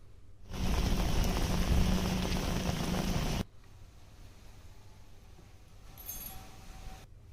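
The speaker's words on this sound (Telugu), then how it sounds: "తుఫాను ప్రభావంతో నెల్లూరు జిల్లా సర్వేపల్లి నియోజకవర్గంలో కుండపోత వర్షాలు పడుతున్నాయి" Heavy cyclone rain in Nellore district's Sarvepalli area pours as a loud, dense hiss for about three seconds, then drops to a softer steady patter of falling rain.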